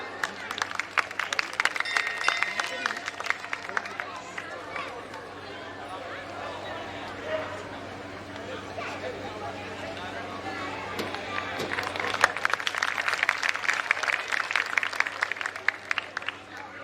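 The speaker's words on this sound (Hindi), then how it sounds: "सभी जोरदार शोरदार तालियों के साथ हमारी दीदी जी का स्वागत करेंगे।" Loud audience applause and chatter rise to welcome a guest at a Khatu Shyam bhajan evening in Old Ashoka Garden, Bhopal, with a steadier crowd murmur in the middle before the clapping swells again.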